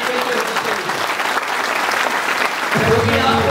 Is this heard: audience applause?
yes